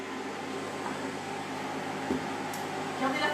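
A mixer kneads brioche dough with a steady, even motor hum, faint clunks from the bowl and a slight rise near the end.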